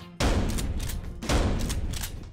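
Two loud shotgun blasts in the video game Paint the Town Red, each a sharp booming report with a rolling tail, about a second apart and heard alone.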